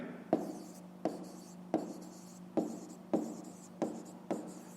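Pen writing on paper for a maths exercise, a quiet close series of seven short scratchy strokes in a regular rhythm, each starting with a light tap, with no talk.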